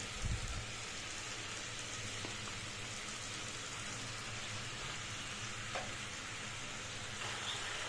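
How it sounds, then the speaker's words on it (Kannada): Ginger garlic paste frying in a pan on a low flame, a steady close sizzle and crackle that holds evenly throughout with a few faint stirring knocks. "ಸೊ ಇದು ಫ್ರೈ ಆಗ್ತಾ ಇರುತ್ತೆ ಸೊ ಲೋ ಫ್ಲೇಮಲ್ಲಿ ಫ್ರೈ ಮಾಡ್ಕೊಳ್ಳಿ"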